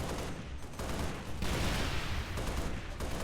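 Rapid automatic gunfire from Halo 3 Firefight, a video game, with dense, continuous bursts of shots filling the whole stretch.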